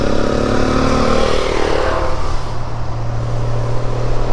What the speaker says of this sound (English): I've just been picked up by what appears to be a motorcycle club, and they're going to come past me right now.